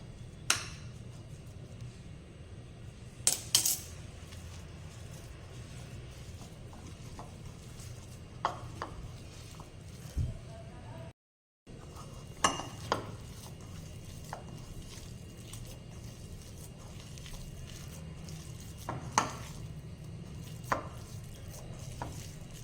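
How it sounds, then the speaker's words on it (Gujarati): Oreo cream is mixed with grated coconut and a little milk in a bowl, giving soft squishing and scraping that goes on for a long stretch, with occasional sharper taps of the spoon against the bowl. "થોડું 2 ચમચી જેટલું દૂધ ઉમેરી આ ક્રીમને આપણે સારી રીતે કોપરા સાથે મિક્સ કરી લઈશું"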